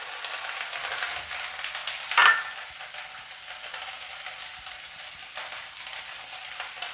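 Grated ginger and coriander powder frying in hot oil for a Punjabi-style paneer pasanda, a steady close sizzle with a brief clatter of stirring partway through.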